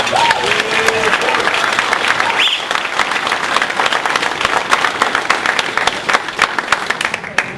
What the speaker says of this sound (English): I want to give him a great round of applause for all the hard work